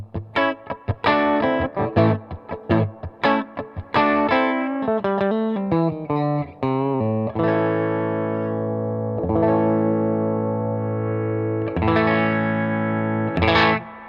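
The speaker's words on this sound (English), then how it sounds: "Let's roll down that tone knob. You can hear kind of what the grease bucket sounds like." A Fender American Professional Classic Stratocaster played clean at full volume, tone knob rolled down on its Greasebucket circuit, giving dark, mellow single notes and chords that ring out and sustain, with pauses between phrases.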